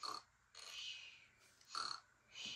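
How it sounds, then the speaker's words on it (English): Cartoonish snoring from a Peppa Pig cartoon pig in slow repeated breaths, each a raspy, snorting swell with gaps of quiet between them, fairly soft and unaccompanied by talk. "Who do you think is snoring?"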